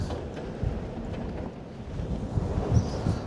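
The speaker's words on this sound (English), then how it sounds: "Oh, this wind, man." Wind gusts buffet an outdoor build site by a tiny home truck, a low rumbling roar with uneven surges and thumps close to the microphone, no voices.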